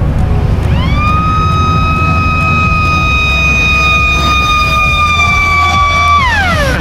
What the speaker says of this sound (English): You guys wanted siren, we got sirens.